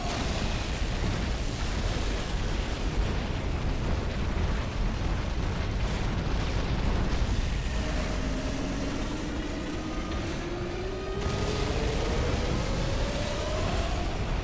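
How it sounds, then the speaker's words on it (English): Rocket launcher explosions in the video game Halo 3 during a fight against the Flood, a dense, loud rumbling blast texture that continues without a break, with a rising whine sweeping through near the end. "Oh, rocket launcher works too, I guess."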